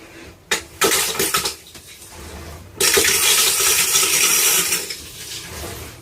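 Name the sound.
toilet flushing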